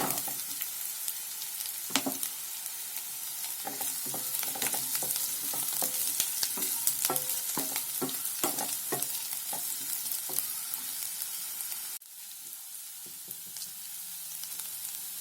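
Air potato pieces fry in a pan, a steady broadband sizzle running throughout with repeated clinks and scrapes of stirring; the sizzle drops suddenly near the end as if the heat or pan is moved. No talking.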